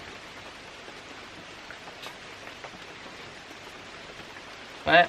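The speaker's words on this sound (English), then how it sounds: "And it wasn't supposed to be raining right now." Steady rain patters over a solo wilderness camp during a thunderstorm, a constant hiss of drops that fills the whole stretch, with a brief louder burst of close contact at the very end.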